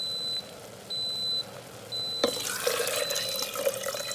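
Water is poured into an Instant Pot while cooking ven pongal, a sudden splashing gush after a few faint electronic beeps, fairly quiet and close with no talk.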